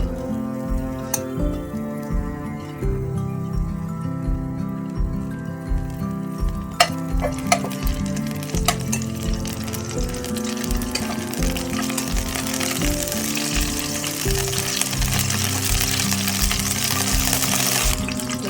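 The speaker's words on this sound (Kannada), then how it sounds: "ಇದಕ್ಕೆ ಎಗ್ ಹಾಕೊಳ್ಳೋಣ. ಎಗ್ಗು ಇದನ್ನು ಸ್ವಲ್ಪ ಫ್ರೈ ಮಾಡಿ" Eggs fry in about two tablespoons of oil in a pan for restaurant-style egg masala, a steady crackling sizzle with regular spatula scrapes and taps over a low rhythmic background hum, no talking.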